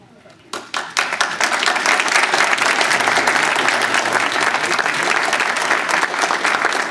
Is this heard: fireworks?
no